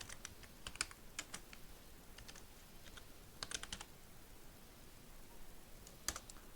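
Someone types a folder name on a computer keyboard: quick bursts of light key clicks separated by short pauses, close and fairly quiet against a low room hiss.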